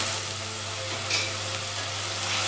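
Garlic, green chilli and ginger paste fry in hot oil for a fish egg curry, giving a dense, continuous close sizzle over a low steady hum.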